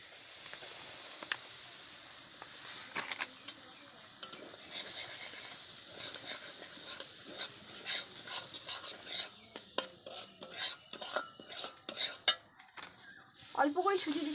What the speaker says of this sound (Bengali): আমাদের তেলটা গরম হয়ে গেছে, এবার আমরা সুজিটাকে দিয়ে দেব।